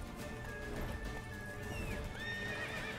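Hooves of a horse gallop steadily in the Witcher 3 video game, with neighs and whinnies over a dense, continuous game soundscape and a high tonal layer.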